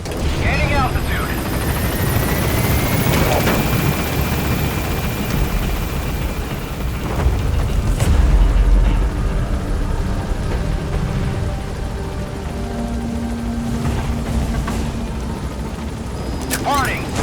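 Helicopter from the game Metal Gear Solid V climbing away, its steady rotor drone loud and continuous throughout, with a heavy thump partway through and radio-style voices talking over it.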